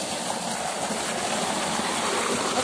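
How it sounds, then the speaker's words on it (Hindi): Water flows steadily through canal channels beside an outdoor path, a continuous rushing, gushing wash at even loudness with no breaks. "ये पानी आ रहा है, आ जाए आगे। दोनों साइडों पे जा रहा है"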